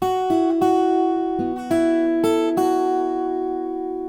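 A guitar plays a short, slow melody of plucked single notes, each ringing clearly before the next, close and clean with no voices.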